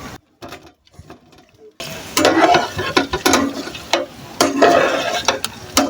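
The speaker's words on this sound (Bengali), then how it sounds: "গরম তেলে মশলা, এলাচ আর তেজপাতা দিয়ে দিচ্ছি" Cardamom, bay leaf and whole spices hit hot mustard oil for an olive pickle, breaking into a loud, steady sizzle after a quiet start, with stirring clatter throughout.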